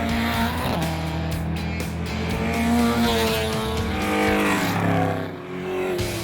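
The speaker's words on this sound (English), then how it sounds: "In the Austrian HistoCup, race cars built before 1981 and selected classic cars start." Historic pre-1981 V8 race cars, such as Chevrolet Corvette, Camaro and Plymouth, racing in the Austrian HistoCup, loud throaty engines roaring and shifting gears with tire squeal as cars pass close by.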